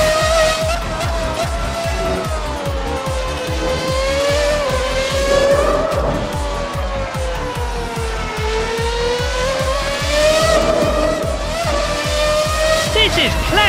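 A 1990s V12 Formula 1 car in the Assetto Corsa racing game screams loudly through its gears, its pitch climbing and dropping sharply with each downshift and upshift, with tyre squeal underneath and a commentator talking over it.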